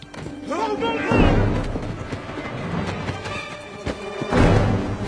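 Grenade explosion in a film scene, heard as heavy low thuds and a rumbling blast burst with another surge near the end, loud and close, with shouting voices mixed in.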